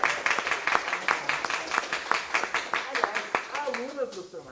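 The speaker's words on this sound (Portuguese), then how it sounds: "uma salva de palmas pra Gi Cabral, por favor" An audience at a school mathematics colloquium gives a short round of applause for former student Giovana Cabral, sharp claps over a voice that keeps speaking.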